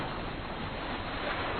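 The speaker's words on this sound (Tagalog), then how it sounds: "Tingnan nyo, mahina ng alon." Ocean waves in an anime, a continuous dense roar of surf and rushing water, loud and steady throughout the short stretch with no voices.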